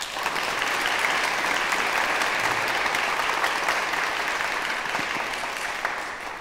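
Steady, dense applause from a concert audience fills a concert hall for the singer, continuing evenly throughout and easing slightly at the very end.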